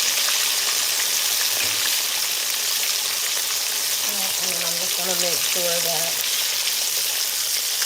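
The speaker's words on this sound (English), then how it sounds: "one thing that I've learned when you're frying fish" Whiting fish fries in hot oil with a steady, loud broadband sizzle throughout, while someone speaks briefly partway through.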